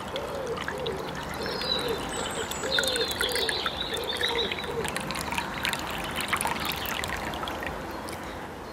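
Fifty-percent organic alcohol poured over herbs in a jar, a close, steady trickling pour with birds calling faintly outdoors in the background.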